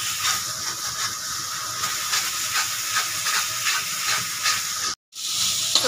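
Jackfruit masala frying in oil in a pan, a steady loud hiss close by that runs on evenly, with a brief silent break near the end before the sizzle resumes.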